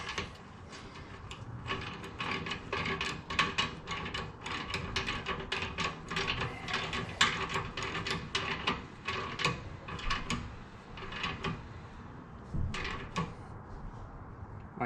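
A ratchet clicks in quick repeated bursts while tightening 14 mm rear bolts on a 2022 Harley-Davidson Street Glide Special, with sharp close metallic ticks and short pauses between strokes.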